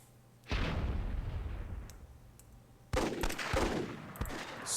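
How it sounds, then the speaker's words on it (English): RPG blasts in the game Myth II: Soulblighter hit as two loud, sudden booming explosions, each one rumbling and crackling as it decays over a couple of seconds, with no talk over them. "see Overdose engaging Thalander 1-on-2, and he takes out both of Thalander's soldiers with a suicide RPG"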